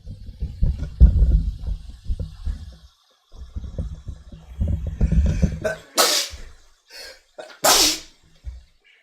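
A person sneezes twice while cooking, each a sharp burst that follows low kitchen sounds and handling noise, with some breathing and movement in between.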